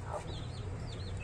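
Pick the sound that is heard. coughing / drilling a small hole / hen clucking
hen clucking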